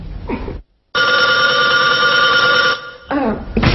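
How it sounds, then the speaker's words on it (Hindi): A telephone bell rings loudly and steadily in an indoor home scene, cut by a brief silence near the start and followed by a short burst of voices and movement. "Excuse me, phone."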